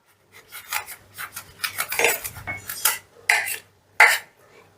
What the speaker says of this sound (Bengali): এটাকে আমি কেটে বাদ দিয়ে দিচ্ছি